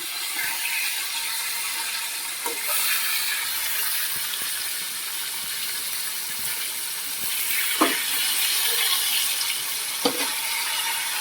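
Three whole pomfret fish sizzle steadily in hot oil for a Bengali fish curry cooked outdoors in a courtyard, a continuous bright crackling hiss with occasional sharper pops spitting up.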